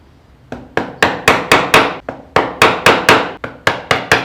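Sharp, loud strikes driving a wood chisel into timber, about fifteen evenly paced blows with brief pauses between runs, close and alone.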